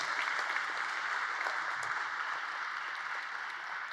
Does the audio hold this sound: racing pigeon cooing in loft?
no